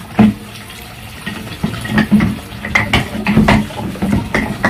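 Plates being washed under a running tap, with water splashing and dishes clattering close by in uneven bursts, no talking over it.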